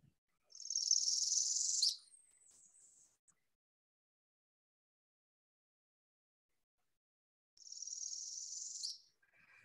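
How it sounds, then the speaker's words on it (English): A spring songbird gives two high, buzzy songs separated by a few seconds of silence, each buzz rising and ending in a crisp, clear note, moderately faint with nothing else heard. "So they have that buzzing that escalates, gets higher, and at the end they have that clear, crisp note"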